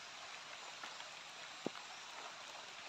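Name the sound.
rain getting heavier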